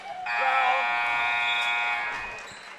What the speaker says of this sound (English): Coach Robert not happy about that no call at the buzzer